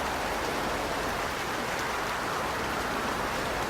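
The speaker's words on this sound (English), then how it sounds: "The rain falls more gently now, and she stands still to hear it." Gentle rain falls steadily, a soft, even patter like a dense hiss that fills the whole stretch without pauses or voices.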